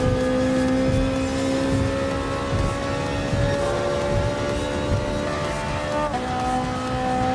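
Ferrari 458 Italia GT3 racing at night in Gran Turismo Sport, its engine droning loud and steady with sustained high revs, a brief shift or lift near the end, and no talk over it.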